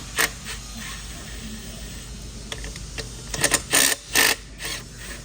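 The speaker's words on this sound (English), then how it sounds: "So you want to grab an impact ratchet, whatever you have, 1/2 inch socket, and there will be 2 bolts back here." An impact ratchet with a 1/2 inch socket loosens bolts on a VALOR machine, giving several short buzzing mechanical bursts in quick succession over a steady background hum, close and fairly loud.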